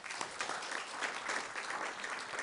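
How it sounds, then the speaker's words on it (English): A short burst of warm applause from an audience in a city council chamber, steady overlapping claps at moderate level with no talking. "let's give her a warm round of applause"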